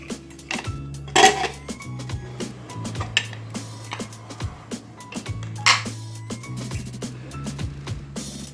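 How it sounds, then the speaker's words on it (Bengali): A still-warm pressure cooker of rice-based bhuna khichuri is unlatched and its metal lid lifted, giving scattered close clinks and clanks of metal over a low steady hum, with no voices. "আমি 20 মিনিট পর এই ঢাকনা খুলছি"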